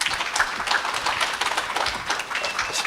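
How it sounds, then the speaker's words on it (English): An audience at a Sunday satsang gathering claps in a continuous burst of applause, close and fairly loud, with individual claps audible throughout. "Give a round of applause."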